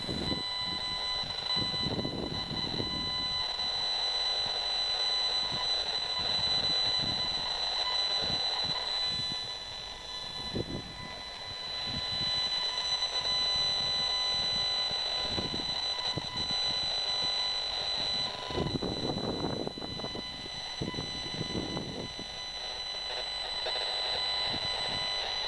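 An Esmog Spion EMF meter set to highest sensitivity for RF gives off steady, faint electronic alarm tones and beeps over quiet outdoor background, with brief swells in noise.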